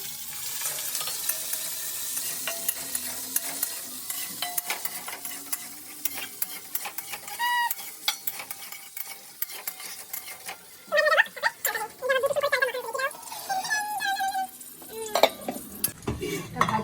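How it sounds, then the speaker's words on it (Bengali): Cashew nuts and raisins frying in a pan for pulao give a steady soft sizzle, with a spoon repeatedly scraping and stirring against the pan, the clatter growing busier near the end. "একটু হালকা ভেজে নেবো লাল লাল করে কাজু বাদামটা"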